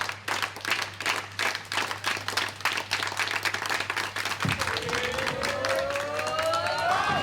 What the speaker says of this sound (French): sous les applaudissements du public d'Inané